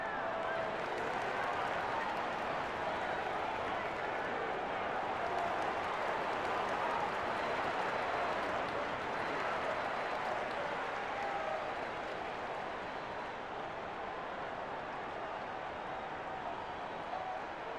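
A virtual arena crowd roars and applauds in an NBA 2K18 Pacers vs Pistons basketball game, a dense, steady wash of cheering noise at full volume throughout with no breaks.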